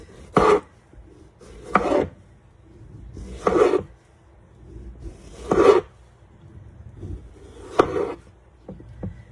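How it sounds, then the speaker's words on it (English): A knife cuts up a tomato on a board with about six separate rasping strokes. Each lands a second or two apart and is close and crisp, with quiet pauses between. "I'm gonna cut up some tomato"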